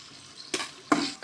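Green chillies frying in sunflower oil: two brief, close sizzling bursts as the pan is stirred, separated by a short quieter gap of low hissing.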